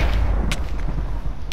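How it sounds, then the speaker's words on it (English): TNT blasts in Minecraft make deep, rumbling booms, with a couple of sharp detonations standing out over a continuous low roar. "Just gonna go crazy with the TNT"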